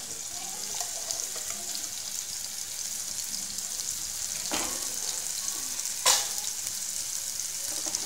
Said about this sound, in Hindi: इसको हम गुलाबी गुलाबी भूनते रहेंगे